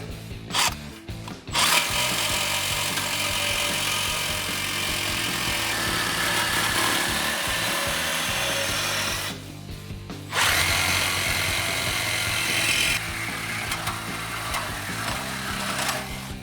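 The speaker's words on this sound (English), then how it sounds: "we're going to use a reciprocating saw to cut off this muffler." A reciprocating saw cuts through the muffler pipe on a 2019-2022 Silverado 1500 5.3L. The loud, steady rasping buzz is heard up close, with a brief stop in the middle before the cut resumes.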